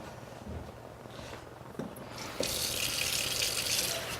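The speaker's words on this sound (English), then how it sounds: "this will be half a cup of water" Warm water pours from a tap into a sink or bowl while dry ingredients for Navajo fry bread are prepared, a steady hissing stream that swells louder and fuller partway through, with no talking.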